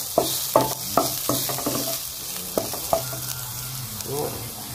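Onion, garlic and chili sauté in a pan for spicy squid adobo, a soft sizzle under a run of sharp spoon-on-pan stirring clacks that come in quick bursts.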